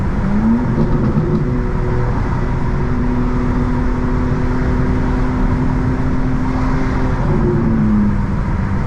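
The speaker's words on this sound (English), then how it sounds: "I do want you guys to hear the exhaust" A 2024 BMW M4 Competition xDrive engine drones steadily at close range, its low exhaust note rising and falling slightly as it holds a cruising rev.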